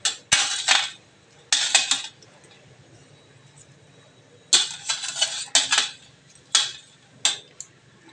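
Fried fish pieces set one by one into a pan of fish curry with eggplant and potato, giving clustered clinks and knocks of utensil on metal in separate bursts with quiet gaps, no talking.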